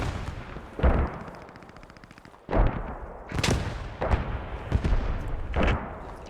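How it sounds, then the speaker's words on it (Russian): Machine-gun fire in the WWII shooter Post Scriptum, a gun firing from a church: loud, sharp bursts and single cracks repeat across the clip, with rapid rattling fire between them and no voices. "Пулемет, по-моему, с церкви работает."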